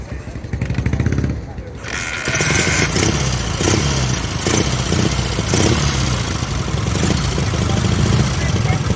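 A vintage motorcycle engine at a classic bike day at the Ace Cafe London idles with a loud, uneven chugging beat after a short lull, close by, with people talking nearby.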